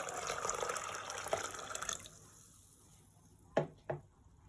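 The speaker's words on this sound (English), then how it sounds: "So now I'll be adding 3 cups of hot water to my" Hot water poured into a pot of gungo peas, a splashing, running pour that fades out, followed by two brief clinks, fairly quiet and close.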